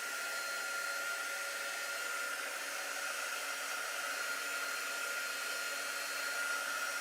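A hair dryer blows steadily on a craft project, a constant, even whoosh running unbroken for several seconds with no talking over it.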